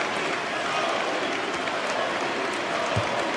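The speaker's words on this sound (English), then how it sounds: "to the applause and appreciation of the crowd, which now rises in Fiserv Forum" Arena crowd at an NBA game at Fiserv Forum rising in sustained applause, a dense steady roar of clapping filling the space with no break.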